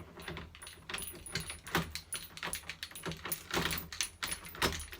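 A UPVC door lock mechanism being slid back into the door, giving a series of close metallic clicks, scrapes and rattles spread irregularly across several seconds.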